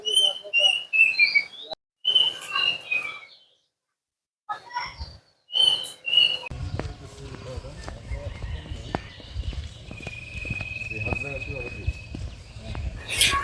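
Birds chirp and whistle in a village along a dirt path early in the morning, with clear repeated calls at the start; someone talks over and between them, and faint rustling outdoor background follows.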